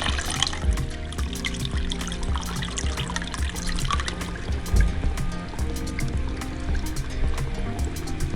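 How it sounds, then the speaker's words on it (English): Tank water pours gently from a measuring cup into a plastic bag holding a new fish, a soft continuous trickle and splash close by, steady for several seconds with no talk. "I'm going to put 1 cup or 230 mils of tank water into the bag"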